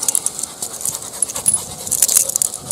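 Black Labrador panting in quick breaths with soft whimpers, close by and moderately loud, with no talking.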